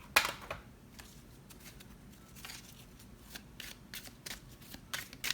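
Tarot cards being shuffled by hand, a series of quiet papery riffles and soft flicks in irregular bursts, close up and fairly faint, with no speech.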